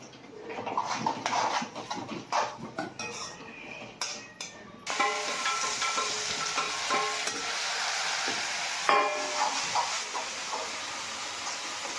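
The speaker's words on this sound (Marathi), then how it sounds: "परत आता खोबरं तळून घेतोय" Coconut frying in oil in a pan for murmura chivda sizzles loudly and steadily, with rapid crackles and spatters and a few scrapes of stirring, close up.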